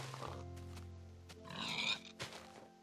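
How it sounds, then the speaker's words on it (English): A pig in Minecraft on Xbox 360 lets out a few soft oinks and grunts as it dies, fairly faint and brief, with a game tone humming underneath. "look how cute you are making those oink noises as you die"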